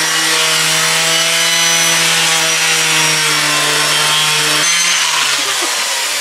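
A Dremel rotary tool sands a wooden tomahawk catapult, producing a loud, close, continuous buzzing whine with rubbing grit that drops slightly in pitch near the end.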